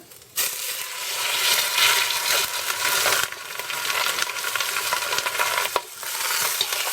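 Pork belly sizzles and crackles loudly in hot oil, skin side down, a steady frying hiss broken by a few sharp pops and spatters.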